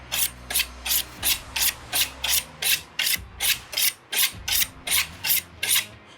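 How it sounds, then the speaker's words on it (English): A kitchen knife is given a quick sharpening before carving wagyu short ribs, with about fifteen rhythmic, evenly spaced rasping strokes of steel being drawn, close and crisp, with no talking. "Give the knife a little quick sharpen here."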